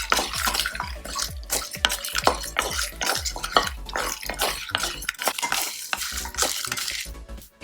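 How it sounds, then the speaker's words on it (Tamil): Spices and dried red chillies clatter and scrape in a metal pan as they're dry-roasted and stirred steadily, with rapid rattling and sizzling taps repeating throughout. "இது எல்லாத்தையும் பொன்னிறமாக வர வரைக்கும் வறுத்துக்கலாம்."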